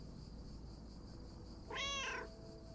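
A game cat lets out a single drawn-out meow, clear and close over a low, steady background hum.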